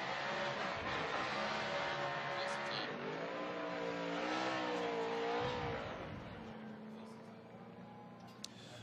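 A Ford Mustang drift car driven by Vaughn Gittin Jr. on Nitto tires roars through a burnout at Formula Drift Irwindale, the engine rising and wavering under an announcer's commentary before it drives off and fades.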